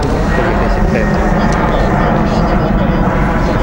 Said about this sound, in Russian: Здесь, кстати, аэропорт недалеко до Домодедовска находится